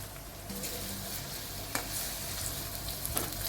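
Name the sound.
green chilli and onion sizzling in hot oil with cumin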